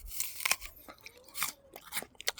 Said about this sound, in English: I mean, it's crunchy, Granny Smith, but it doesn't.